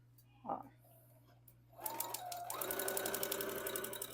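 Sewing machine running a straight stitch through felt, starting after a couple of soft clicks and then whirring steadily and fairly close, with a rapid stitching rhythm; a faint voice is present under it.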